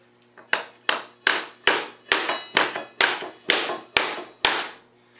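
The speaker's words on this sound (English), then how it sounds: "Lightly hammer it, make sure it stays down," About ten sharp hammer strikes on a metal pull bar against laminate flooring during installation, evenly spaced at a steady rhythm, each ringing briefly, close by.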